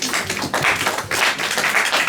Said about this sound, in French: Nous applaudissons pour le Seigneur.